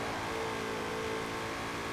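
A 2020 Shelby GT500 in the Forza Horizon 4 racing game holds a steady, loud engine drone for two seconds, a dense mid-range roar with no talking over it.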